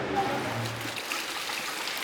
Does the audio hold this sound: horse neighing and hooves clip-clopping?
no